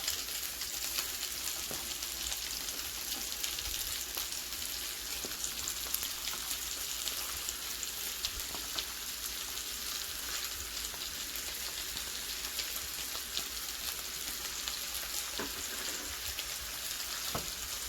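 Meat with onions and pepperoni sizzles in a pan for spaghetti and meatballs, a steady, dense crackling fry that holds close and even throughout, with no talking.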